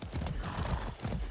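Horse hooves clip-clop steadily on the ground in the video game Far Cry 6, the horse wearing zebra-striped paint, with a busy, dense background mix of game sound.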